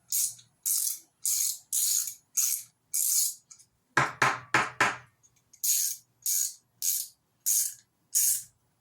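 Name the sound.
socket wrench ratcheting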